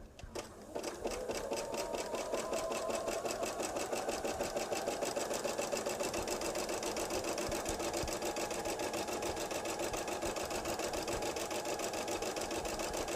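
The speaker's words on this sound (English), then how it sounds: "Now we're going to stitch on the other side." A sewing machine stitches a fabric table runner, running in a fast, steady mechanical rattle close up for over ten seconds after a brief start.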